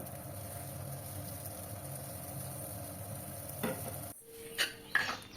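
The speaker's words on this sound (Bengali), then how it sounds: "তো বাকি যেগুলো ছিল সেগুলোও আমি 2 পিঠে উল্টে পাল্টে ভেজে নেব।" Breakfast pieces frying in a pan, a faint steady sizzle that cuts off abruptly near the end, followed by a few soft clatters as the pieces are turned over.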